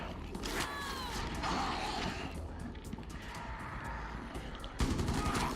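Gunfire, clicks and mechanical rattles of a magazine swap and reload in Rainbow Six Siege, set against busy in-game noise, with metallic clacks and short bursts scattered throughout.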